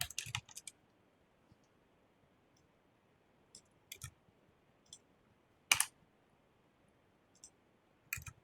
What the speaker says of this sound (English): I'm just typing it in the chat.